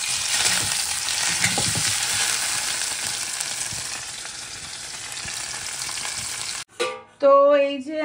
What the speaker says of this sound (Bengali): এখানে পনিরটা ভাজা হচ্ছে